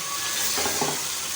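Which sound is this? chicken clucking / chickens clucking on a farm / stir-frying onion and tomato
stir-frying onion and tomato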